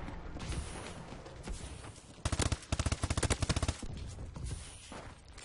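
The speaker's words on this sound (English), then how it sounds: "This gun on silencer is not bad. It's kind of a stealth machine." A silenced automatic gun in Call of Duty: Advanced Warfare fires a rapid burst of about a dozen sharp, evenly spaced shots. The burst stands out over a steady bed of in-game background noise.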